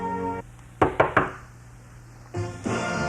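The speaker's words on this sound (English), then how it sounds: "There's a knock at the open door." Three quick, firm knocks on an open office door, close and clear, set between stretches of background music.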